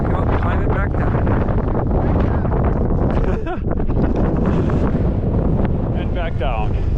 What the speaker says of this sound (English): Still windy as heck up here.